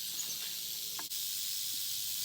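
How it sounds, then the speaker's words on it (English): A rattlesnake beside a hiking trail rattles with a continuous dry, high hiss, steady and fairly faint, with a brief soft knock partway through and no talk. "Just came across a rattlesnake on the side of the trail here."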